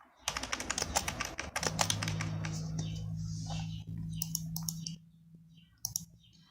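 Fingers tap out an employee ID on a computer keyboard in quick clicking bursts, with a steady low hum underneath and a short pause before a final couple of key presses.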